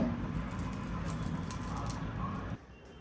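Crispy paper roast dosa crackling with a dense, steady sizzle, close and fairly loud, that cuts off abruptly near the end, leaving quieter background.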